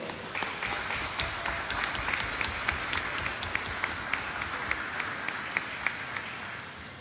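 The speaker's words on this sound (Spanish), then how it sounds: "Aplausos, por favor." An audience at an award ceremony for a woodworking contest, honoring a carved Maya chess set, claps steadily and densely for the whole stretch, with sharp individual claps popping out near the end.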